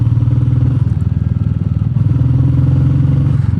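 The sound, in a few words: motorcycle engine running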